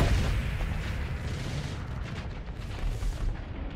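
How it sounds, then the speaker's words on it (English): Spaceship guns fire continuously in the space combat game Starsector, a dense, loud barrage of booming shots that rumbles without a break. "Yeah, shoot all the guns."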